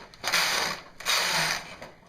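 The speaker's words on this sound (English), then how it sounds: "I'm knitting a couple rows of plain stocking stitch" Brother KH270 bulky knitting machine knitting rows of plain stocking stitch: two long rasping, clattering sweeps of the carriage across the needle bed, each about half a second to a second long, close and fairly loud.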